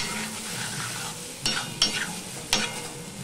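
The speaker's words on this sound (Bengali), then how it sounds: "আদা দিয়ে আমি একটুখানি ভালো করে মিশিয়ে নেব, যতক্ষণ না আদার কাঁচা গন্ধটা চলে যায়" Ginger is stirred into a sizzling pan for a fish head curry with potato and papaya, the spoon scraping in a few sharp strokes over steady close frying.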